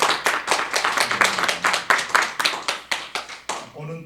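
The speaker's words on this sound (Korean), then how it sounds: "우리 박수로 한번 환영해 주시기" Church congregation applauding to welcome a visiting saxophone ensemble during a Sunday worship service; steady, fairly close clapping from many hands that fades out near the end.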